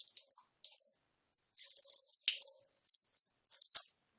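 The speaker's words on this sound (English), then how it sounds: "That's how I clean my water bottle." Tap water runs in short bursts into a water bottle being washed at a sink, with splashes and rattles separated by brief pauses, fairly close.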